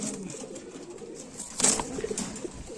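Pigeons coo nearby, a short burst of soft, throaty calls rising over a faint background hum.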